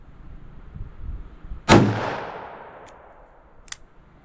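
One loud .357 Magnum gunshot using a Fiocchi defense load, fired outdoors at a range target 15 yards off, a sharp crack and decaying echo followed by a couple of faint clicks.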